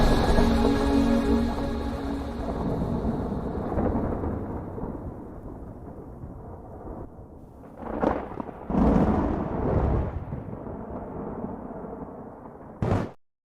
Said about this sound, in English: I love that thunder.